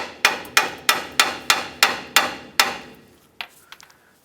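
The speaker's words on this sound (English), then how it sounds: "Tap it further in with a hammer." A hammer taps a front track bar bushing into its mount on a 2008-2010 Ford F-450 Super Duty truck, eight sharp, evenly spaced metallic strikes close by, then a pause and a few lighter, quicker taps.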